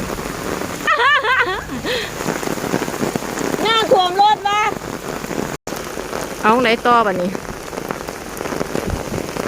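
Heavy rain pours steadily throughout, a dense hiss under bursts of nearby talk.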